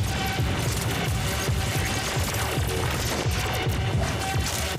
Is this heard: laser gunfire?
yes